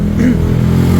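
A 2015–2016 Movistar-edition Sniper 150 motorcycle engine running with a steady mid-pitched drone and a slight rise in revs, close and loud.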